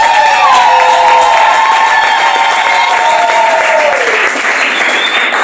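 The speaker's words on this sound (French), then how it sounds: "Une fois de plus, on applaudit pour les futurs mariés." Guests at a civil wedding ceremony in the Madingo town hall applaud the couple with loud, sustained clapping mixed with cheering and crowd noise, filling the room for several seconds.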